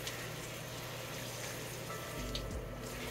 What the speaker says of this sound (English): I'm turning on the water slowly